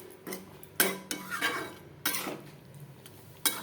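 Prawns being stirred into a jackfruit curry in a pot, several distinct metallic clanks and scrapes of a spoon against the pot in irregular bursts, with quiet gaps between, no speech.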